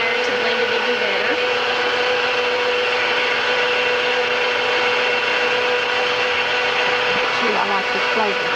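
A kitchen mixer running at high speed through cookie batter, a steady loud whirring drone that holds without a break from start to finish.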